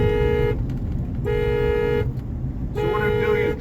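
Horn of a Honda Ridgeline sounding in repeated loud blasts from its alarm system fault, three long honks with short gaps over steady background noise.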